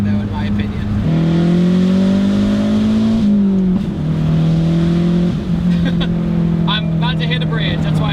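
A MazdaSpeed6 turbo engine accelerates hard in third gear while driving, a loud, steady rising drone that dips briefly when the throttle lifts and then pulls again, with the driver talking over it.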